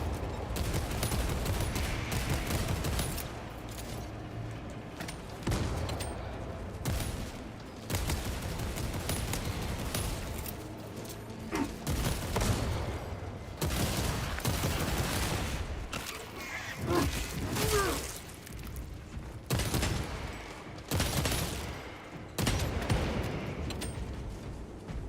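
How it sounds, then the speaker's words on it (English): Sustained gunfire in Warhammer 40K Space Marine 2 while shooting exploding barrels, dense loud bursts of rapid shots with heavy booms and mechanical clatter, continuous and close throughout. "I love shooting the exploding barrels"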